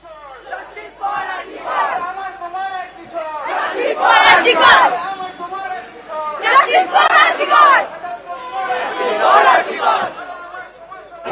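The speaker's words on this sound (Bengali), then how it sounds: "আর সেই প্রতিবাদ এবার যাদবপুর হাই স্কুলের প্রাক্তনীদের মিছিল।" Jadavpur High School alumni march in a street protest demanding justice for a young doctor's rape and murder, the crowd shouting loud rhythmic chants in repeated bursts with short gaps between them.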